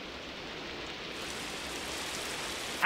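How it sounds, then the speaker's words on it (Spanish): Rain begins to fall as a steady broadband hiss that grows fuller after about a second, continuing evenly with no voices. "si se pone a llover."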